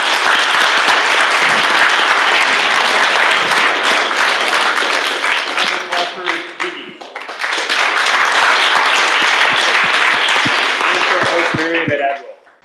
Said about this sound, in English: round of applause for Miko